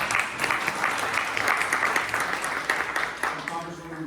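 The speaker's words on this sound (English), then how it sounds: "round of applause" An audience at a city community forum applauds three government office representatives, steady dense clapping from a room of people that runs throughout and thins slightly toward the end, with a voice speaking faintly underneath.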